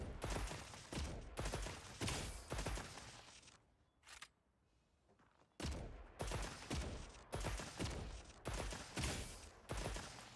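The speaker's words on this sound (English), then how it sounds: "Those were 2 magazines of heavy bowgun dragon ammo." In a video game, a heavy bowgun fires two magazines of dragon ammo. Each magazine is a series of loud, roaring blasts, and the two volleys are separated by a short quiet gap.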